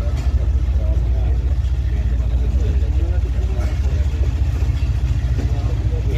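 The diesel locomotive of the TezGam Express between Lahore and Raiwind builds power, a loud, steady low rumble that drones throughout with a crowded carriage murmuring underneath.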